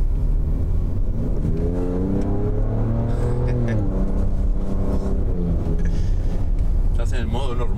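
Ford Ranger Raptor pickup accelerates in normal mode on a dirt track, its engine note climbing steadily through the gears from inside the cab, with people chatting over the muted drone.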